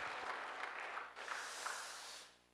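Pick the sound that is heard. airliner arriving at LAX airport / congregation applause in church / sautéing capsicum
congregation applause in church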